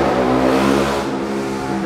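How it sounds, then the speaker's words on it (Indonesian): A Toyota Innova Venturer diesel engine revs up in a loud, steady, close drone that holds briefly and then eases slightly, with no talking over it. "Suara motor teman-teman."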